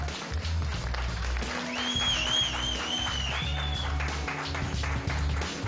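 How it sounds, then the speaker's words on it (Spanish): A live audience at a Colombian televised talent-show gala applauds and cheers a tango act. Steady, dense clapping and crowd noise fill the room, with a high sustained whistle-like tone riding over the applause in the middle. "Recibámoslo con un aplauso y las flores de nuestras modelos."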